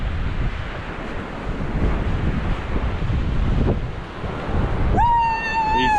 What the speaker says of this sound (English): it's too bloody windy